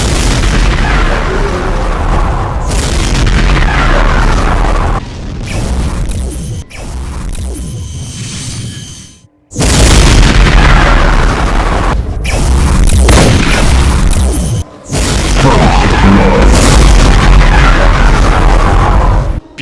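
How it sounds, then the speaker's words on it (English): Dual BFG 9000 shots exploding one after another in the game Doom amid a chaotic Cyberdemon mod fight, loud booming blasts in long roaring bursts separated by brief quieter gaps. "Dual BFG 9000 shots,"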